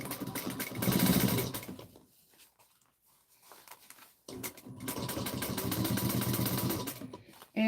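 A sewing machine stitches an Erica bowler bag in two steady, fast-running bursts separated by a short near-silent pause, close and moderately loud.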